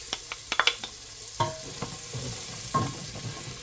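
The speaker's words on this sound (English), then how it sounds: "we got 2 tablespoons of salted butter in here. To that, I'm adding 1 onion, small diced" Small-diced onion sizzles in salted butter in a pan, a soft steady hiss broken by a handful of sharp clacks and scrapes of a utensil stirring, close and fairly quiet with no voices.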